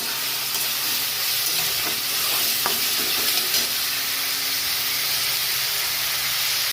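Prawns and arbi stems fry loudly in a pan with spice paste, a dense, constant sizzle close up with a few faint stirring clicks.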